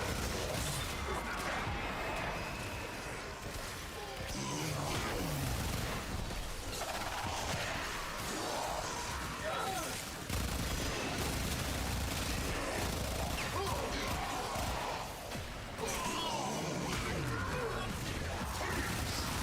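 Akimbo pistols fire rapidly in a video game, a dense, unbroken stream of shots mixed with other game effects, loud and steady throughout.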